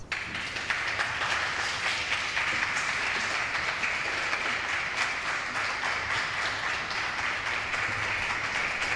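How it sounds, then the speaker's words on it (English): An audience gives a warm round of applause at a product launch, a dense, steady wash of many hands clapping at moderate volume, continuing unbroken with no voices over it. "would you please give a very warm round of applause"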